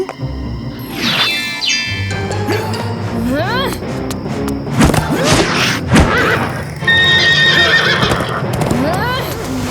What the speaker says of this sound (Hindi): और ये रहा डाकू मंगल सिंह का घोड़ा।